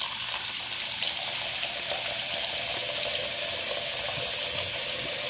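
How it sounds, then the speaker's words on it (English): Hot water runs from a tap into a sink, filling it for a wet shave: a steady, close, continuous splashing rush with no pauses and no talking. "A little bit hotter. Fill up the sink."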